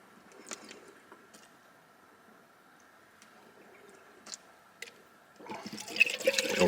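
Quiet rustling and small clicks, then water pouring in near the end, splashing and gurgling as it fills a food pouch.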